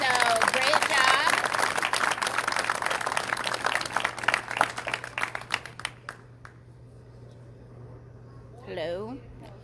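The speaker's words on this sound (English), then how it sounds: "So a big round of applause for Heidi." An audience at a campaign kick-off event claps loudly and steadily for several seconds, then the applause thins out and stops, followed by a brief voice.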